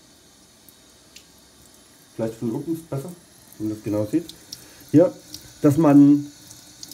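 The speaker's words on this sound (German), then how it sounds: "Und dann nehmt ihr Wasser, kaltes Wasser natürlich" Cold tap water runs steadily over alfalfa sprouts in a kitchen, a continuous soft rush beneath a person speaking.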